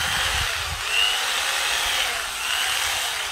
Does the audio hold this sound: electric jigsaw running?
yes